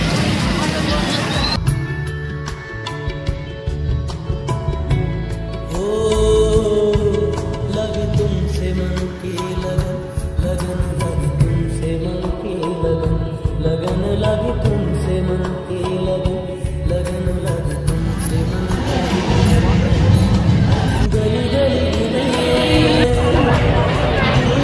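A dense crowd fills a Durga puja pandal in Janjgir Naila with constant murmuring chatter and babble, along with scattered louder voices and background rumble, continuous throughout.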